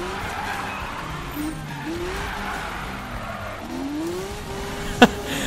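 A car drifts in the racing game Need for Speed (2015), its tires squealing in long wavering tones over steady engine noise, with a brief sharp impact near the end.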